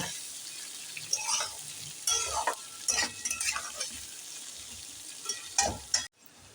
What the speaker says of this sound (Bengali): পেঁয়াজটা আমার এখানে ভালোভাবে ভাজা হয়ে গেছে